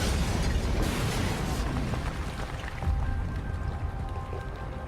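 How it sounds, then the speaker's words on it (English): A loud, rumbling blast with crackling debris and a roaring wash of noise that slowly settles, with faint tonal ringing toward the end. "In the aftermath of the explosion"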